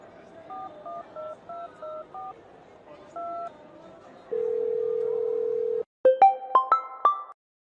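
A telephone is dialed: a string of short keypad tones, then a long steady tone, followed by a quick rising run of beeps, all clear and close with no talking over them.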